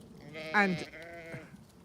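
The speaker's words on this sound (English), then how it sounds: "I've now got my sheep surrounding me" A single sheep lets out one loud, wavering bleat close by in a grassy field, followed by a fainter bleat from another sheep nearby, with no talking.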